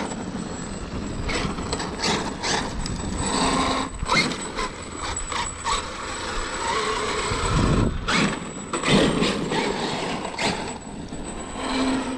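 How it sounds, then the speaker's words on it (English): Wheel nuts are tightened on a Traxxas X-Maxx RC car, giving a series of irregular mechanical clicks, ratcheting and scraping handling noises at close range with no voices. "I'm just gonna give the wheel nuts a bit of a snug"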